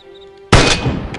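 A single loud, close gunshot from a firearm in the survival video game DayZ cracks out of a quiet background, followed by a short ringing echo and a faint second report.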